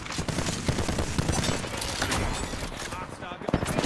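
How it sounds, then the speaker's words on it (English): Fuse's Knuckle Cluster firing in Apex Legends, a dense rapid burst of small explosive pops and crackles that keeps going without a break for a few seconds. "Knuckle cluster's firing"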